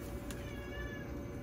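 A cat gives a faint, short meow with a wavering tone, heard at a distance over a quiet indoor background hum.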